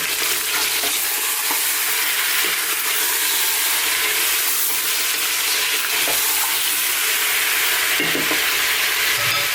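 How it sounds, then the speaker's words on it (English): Lamb meat browns in a pot over medium heat for a lamb vegetable bone soup, giving a dense continuous sizzle up close with occasional stirring scrapes and no voices. "On this medium type heat, let's just cook this meat for just about 4 to 5 minutes."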